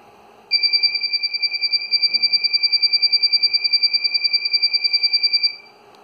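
Alarm on a NodeMCU home security system, set off through an Amazon Echo Alexa voice command: a loud, steady electronic beeping of two sustained high tones, rapidly pulsed, lasting about five seconds and then stopping.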